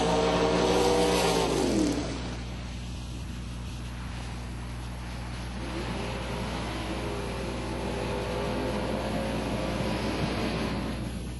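Drag racing cars launch down the strip at a bracket race, an engine roaring loudly at first, then fading into a sustained distant rumble and whine as they pull away.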